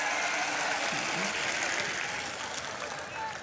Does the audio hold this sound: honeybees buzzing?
no